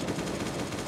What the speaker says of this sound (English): And now we're finally gonna start using the AK.